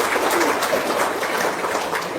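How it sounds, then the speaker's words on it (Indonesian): An audience at a testimony talk gives a soft, steady round of applause, a continuous patter of many hands at moderate distance. "Tepuk tangan dong"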